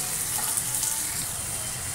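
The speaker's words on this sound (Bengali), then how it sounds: "লঙ্কার গুঁড়ো, জিরে গুঁড়ো সব দিয়ে জল দিয়ে কষছি" Chili and cumin powder sautéing in a pan with added water give off a steady, close, hissing sizzle with a bubbling wet edge throughout.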